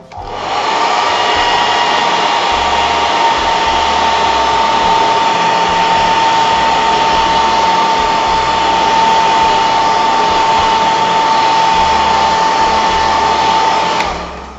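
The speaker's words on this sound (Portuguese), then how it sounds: "Vou secar aqui no secador." A hair dryer blows steadily at close range drying paint on a craft piece, a constant loud whoosh with a high whine, running without pause for the whole stretch.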